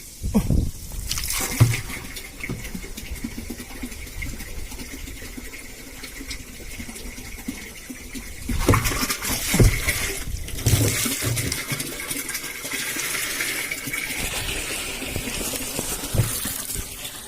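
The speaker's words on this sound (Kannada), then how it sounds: "ಟ್ಯಾಂಕಿಗೆ ನೀರು ಹಾಕಿ ಆಯ್ತು" Water gushes and splashes steadily into a household tank, with a few louder surges partway through and no talking.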